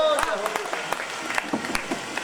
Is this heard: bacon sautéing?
no